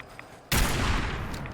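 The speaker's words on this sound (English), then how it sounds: "I'm having fun just picking at him with a rifle." Rifle gunfire in the video game Fallout 4: after a quiet moment, a sudden loud burst of shots erupts and rolls on as dense rattling fire to the end.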